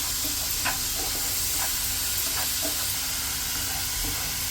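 Onion sautéing in a pan for a vegetable khola puri gravy, a steady close sizzle with soft hiss and a few scraping stir clicks, with no talking.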